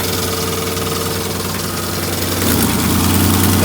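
An old RBT car engine idles roughly with a leaking exhaust, a steady close rumble and chug throughout that swells louder near the end.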